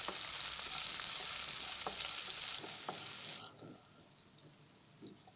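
Sliced shallots and garlic sizzle steadily in a pan while being sautéed, a loud broadband frying hiss with occasional stirring clicks that cuts off abruptly partway through, leaving a quiet room tone.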